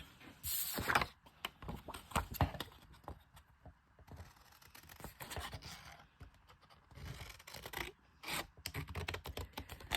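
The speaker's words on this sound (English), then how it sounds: "I took my scissors and cut it out." Scissors snip and crunch through paper up close, the cuts coming in uneven bursts with quiet rustling and handling between them.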